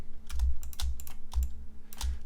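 Computer keyboard keys are pressed in quick clusters of crisp clicks and taps, a few short bursts with brief pauses between, close and fairly quiet in a still room.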